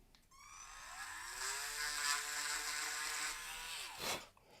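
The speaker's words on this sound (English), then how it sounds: "drill that hole out again" A power drill bores out a hole in a spring-thigh action toy, starting with a rising whine that holds steady and close for about four seconds before cutting off with a brief clatter.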